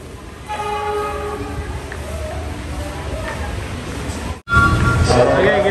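A long-distance train at Lempuyangan station in Yogyakarta rumbles loud and close, with a horn tone sounding over the steady rolling noise and a sharp jolt near the end.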